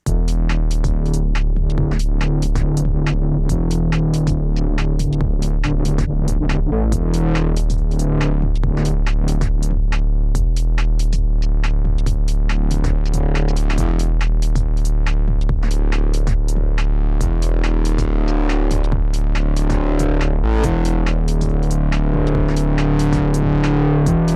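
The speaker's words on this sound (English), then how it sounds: "we are going to make a UK bass, UK garage inspired bass line," A gritty, distorted Novation Peak synth bass line bounces along in a steady UK garage groove, punchy and loud throughout with choppy rhythmic notes.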